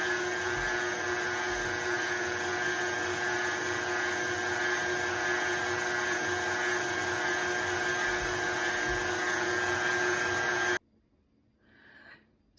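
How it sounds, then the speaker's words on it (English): KitchenAid stand mixer running at medium speed while kneading sourdough dough for rolls, a loud steady motor whine with rhythmic thumping of the dough, continuing alone for about eleven seconds before cutting off. "I'm now turning my KitchenAid to 2, medium, for 5 minutes."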